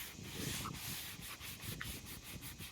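Wet sandpaper dragged across a car headlight lens, producing a continuous close gritty scrubbing rasp in rhythmic back-and-forth strokes.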